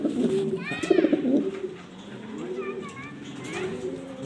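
Black Danish pigeons coo in soft, repeated rolling calls close by, mixed with a few higher bird sounds and a background of voices and other noise.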